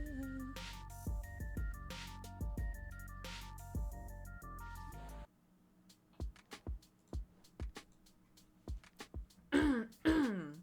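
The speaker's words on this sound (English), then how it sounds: "This cough is annoying the shit out of me." Repeated throat clearing and short coughs from a person with a lingering illness, loud and close, coming in a rapid irregular burst after a stretch of music, with harsher, stronger hacks at the end.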